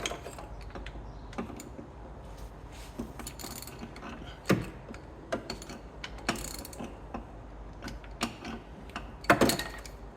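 A ratchet works on the 13mm bolts that slacken the auxiliary belt on a Fiat Coupe, giving quiet irregular clicks and clacks with occasional sharper knocks, close but faint.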